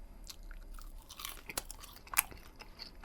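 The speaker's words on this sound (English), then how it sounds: "you can probably hear a bit of crunching going on with the skin" Someone eats crispy pork sausages with crisped skin and a honey flavour, giving close, irregular crunches and chewing bursts, sharpest near the middle, with no talking.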